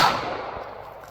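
.22 Magnum pocket pistol fired at a target 10 feet away: one sharp, loud report that decays quickly into a short fading tail, with no speech.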